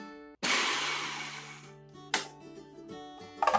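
A blender chops cauliflower into rice-sized grains, a loud whirring burst lasting over a second, then a shorter pulse and a final quick pulse, with faint steady tones underneath.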